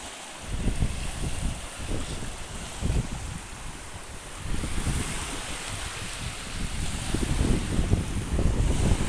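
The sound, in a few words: strong wind and waves on the river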